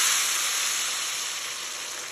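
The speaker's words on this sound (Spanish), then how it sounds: "En un sartén grande agregar un chorro así de aceite de olivo o de tu aceite favorito y agregar toda la salsa" Chipotle chile salsa hitting hot olive oil in a large pan, a steady bright sizzle that fades slightly over a couple of seconds, heard close and alone.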